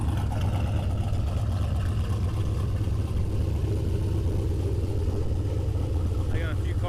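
A 1000hp turbo LS rat rod engine idles steadily with a deep, rumbling low drone, loud and close throughout, with a brief faint voice near the end.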